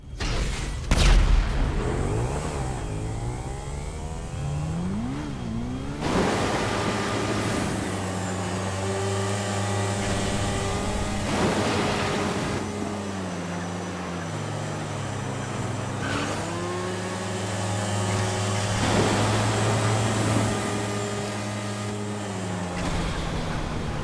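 Pegassi Bati 801 and Pegassi Oppressor motorcycles in a Grand Theft Auto V drag race rev and accelerate loudly, with engine pitch climbing repeatedly through gear changes and continuing for about twenty seconds without speech.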